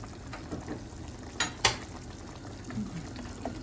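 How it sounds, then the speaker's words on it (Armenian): Brine for an eggplant marinade bubbling at a low boil in a pot, a soft steady simmer with a few clinks and a spoon stirring against the pot. "լավ եռում է"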